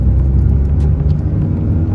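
Alpine A110R sports car with carbon bodywork, heard from inside with the windows closed: a steady low engine rumble and road drone under the cabin, with a slight dip where a gear change passes.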